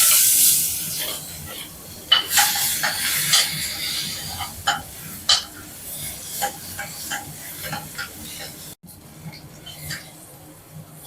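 Shallots and fennel powder frying in a pan for a Tamil-style country chicken curry, a steady sizzle and hiss broken by scattered crackles and stirring clicks, close and fairly loud.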